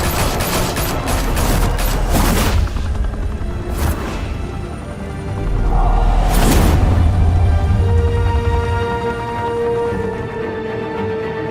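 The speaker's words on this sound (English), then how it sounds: "Open fire!" Gunfire in an animated Batman episode, heavy volleys of shots crack out in quick bursts alongside whooshes and booms, then give way to a sustained rumble with lingering tones.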